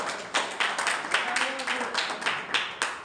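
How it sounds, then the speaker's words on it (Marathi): A crowd claps for students at a merit felicitation ceremony, with sharp bursts of hand claps that rise and fall in uneven waves and a brief voice murmuring through the middle. "जोरदार टाळी वाजवा."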